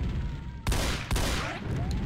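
Two sharp gunshots from the Doom mod Golden Souls 2 crack out loudly about half a second apart, each leaving a lingering rumble over a quieter background.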